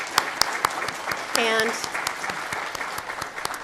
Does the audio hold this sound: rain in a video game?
no